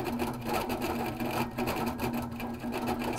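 An HQ Capri sewing machine stitching a quilt hums steadily and continuously with a rapid needle rhythm, moderately loud and close, with no talking.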